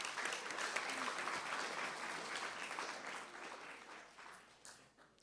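A congregation at Friday night Shabbat services applauds steadily for several seconds, dense clapping that gradually thins and softens toward the end.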